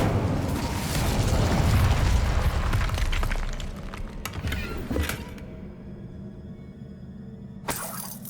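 An Incendio fire spell from Hogwarts Legacy bursts loud and close in a rumbling, crackling blast that fades over several seconds, with a sharp second burst near the end.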